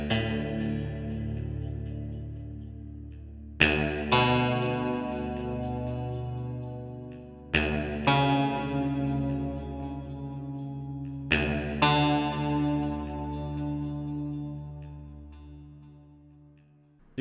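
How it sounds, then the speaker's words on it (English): Clean electric guitar chords, sustained by a sustainer, ring out and sustain long, struck again roughly every four seconds, each note swelling and holding without distortion. "using a more clean sound, so you can hear the steel sustains, but without distortion"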